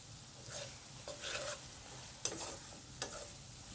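Tomato and chili powder stirred in a pan for spicy dried Bombay duck curry, giving a low, steady sizzle with a few sharp scrapes and clacks of the spoon.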